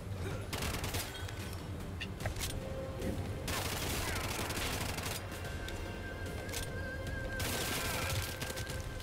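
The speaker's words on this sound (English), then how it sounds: "Machine gun pistol." Rapid machine gun pistol fire from the video game Bright Memory: Infinite, dense sustained bursts filling the whole stretch with loud, continuous crackle and booms, mixed with game effects.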